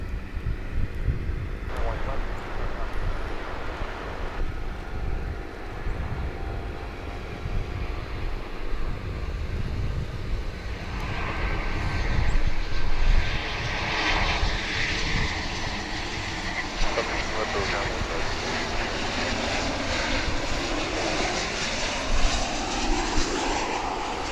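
Departing airliner from Aguascalientes, Mexico climbing out at Dallas Fort Worth airport, a broad steady jet engine roar rising in the middle and holding, with faint talk underneath.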